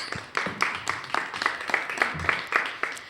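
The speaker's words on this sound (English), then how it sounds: "Let's give them a round of applause." Audience applause at a Camera Combat event in Carlisle, heard as fairly close clapping with sharp rhythmic bursts that rise and fall in waves over steady crowd noise.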